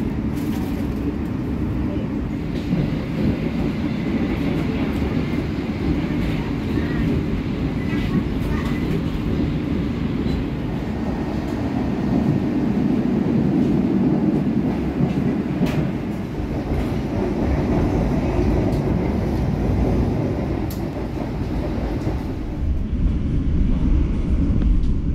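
Inside the dining car of the KA Lodaya passenger train in Indonesia, a steady loud rumble and rattle of the moving carriage continues throughout as the train nears Kiaracondong station in Bandung.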